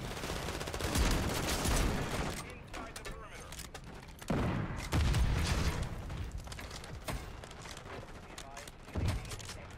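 Shotgun blasts from Call of Duty Modern Warfare III with a Reclaimer 18 build, heavy booming shots recurring every few seconds among dense game action, with a voice talking over them.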